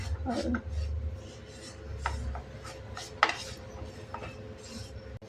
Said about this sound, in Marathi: तसं मंद गॅसवर आपण हे पीठ छान भाजून घ्यायचं आहे।